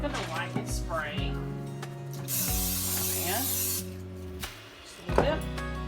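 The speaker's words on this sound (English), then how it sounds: "Alright, I'm going to lightly spray." Short hissing bursts of cooking spray misted over a baking pan for apple crisp, with clattering and a voice talking over it.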